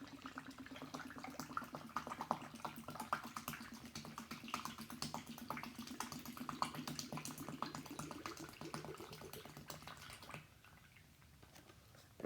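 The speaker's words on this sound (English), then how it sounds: "So go on ahead and pour the milk in." Milk pours into a plastic bag while making pudding in a bag, a steady liquid trickle with soft wet splashing that runs for about ten seconds before tapering off into quiet.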